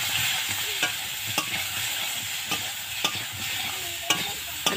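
Fish curry fries in a pan with turmeric, salt and ginger, giving a steady close sizzle broken by regular sharp scrapes and clinks of a spoon stirring, with no talk.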